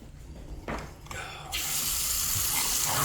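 Hot water runs from a tap in a house during a move-in inspection, starting with a few splashy bursts before settling into a steady, bright rushing stream that fills the rest of the clip.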